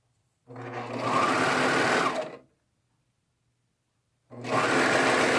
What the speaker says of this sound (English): now we're going to sew, this is actually the crotch seam